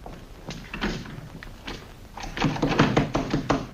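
Someone rattles and knocks at a locked office door in a 1940 newspaper-office film scene, with a string of close wooden thunks and taps that grow busier and louder toward the end.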